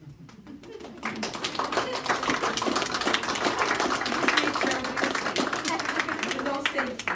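A round of applause at a school board meeting: sparse clapping in the first second swells into steady, fairly close clapping by many hands, with murmured voices underneath.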